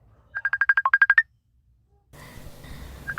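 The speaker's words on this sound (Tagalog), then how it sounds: "adda umawag iti cellphone na" A cellphone rings with an incoming call, sounding a quick burst of about ten beeping electronic tones. Quieter room noise follows, with faint tones returning near the end.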